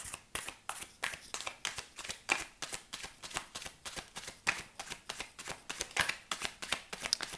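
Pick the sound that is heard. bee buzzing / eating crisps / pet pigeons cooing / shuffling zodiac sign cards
shuffling zodiac sign cards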